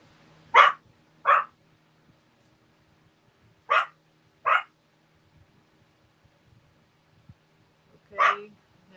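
Dogs bark nearby in short bursts, two quick barks, a pause, two more, then a final bark, heard over an otherwise quiet room with no talking.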